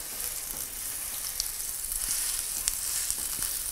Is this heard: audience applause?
no